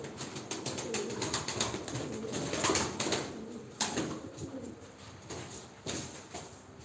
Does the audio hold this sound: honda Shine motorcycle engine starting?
no